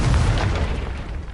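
Confringo blasting spell going off in the game Hogwarts Legacy, a loud booming explosion with heavy low rumble that bursts at once and decays slowly over a second, with no voices.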